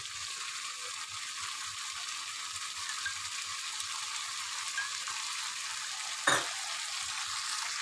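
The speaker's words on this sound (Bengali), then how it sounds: "এই সময় আমি এই কিশমিশ কটাও দিয়ে দেবো, দিয়ে আবার ভালো করে কষাবো।" Spice paste with raisins and peas sautés in hot oil, an even hissing sizzle holding steady throughout, with a single brief knock of a spoon near the end and no talk.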